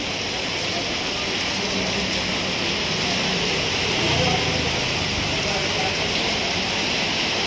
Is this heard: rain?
yes